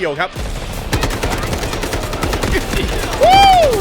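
An AK rifle in the shooter game Delta Force fires loud rapid automatic bursts up close, with a rising electronic whine near the end.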